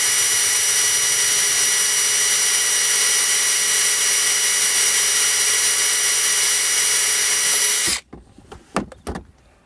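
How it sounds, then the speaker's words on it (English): A loud, steady high-pitched power drill whine drilling into a Ford car lock runs for several seconds, then cuts off abruptly, followed by a few clanks and knocks. "And now we're going to just drill a little bit."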